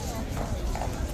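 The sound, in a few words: police horse hooves clip-clopping at Horse Guards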